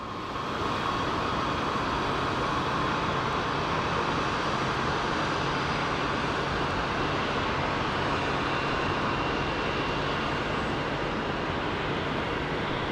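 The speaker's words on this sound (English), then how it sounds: "We have 2 planes that are landing on 25 right." Steady broadband roar of airliners landing on runway 25 Right at Phoenix Sky Harbor International Airport, a continuous loud engine rumble with a hissing wash that holds throughout, no voices.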